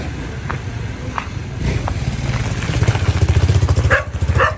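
Tractor engine starting and settling into a rough idle in a yard, a steady loud rumble with a rhythmic low chugging that grows stronger partway through, with a few scattered clicks and knocks.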